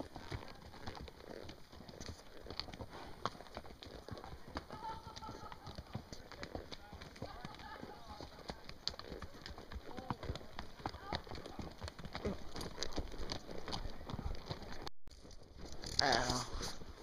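Hooves clip-clop in a steady, quick rhythm during a horseback ride outdoors, mixed with rustling and handling noise. Voices talk intermittently throughout.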